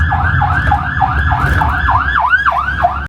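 A wailing ambulance siren cycles up and down repeatedly over a steady low vehicle rumble, loud and close, on a road near Lake Atitlán.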